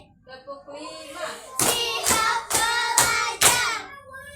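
A teacher's voice speaks briefly, then children in a classroom clap in unison five times, each clap a loud, sharp group burst in an even rhythm about half a second apart.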